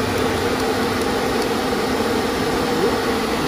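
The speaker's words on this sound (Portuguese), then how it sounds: "Dá até para ouvir o barulho do ventilador" A steady, even whir of a Citroën car's radiator cooling fan running continuously on an overheating engine, with a constant broadband rush and a faint tonal hum, close by and unchanging.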